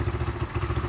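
A Derbi motorcycle engine, freshly carburettor-cleaned after being a non-runner, idles close by with a steady, even putter and faint mechanical clatter.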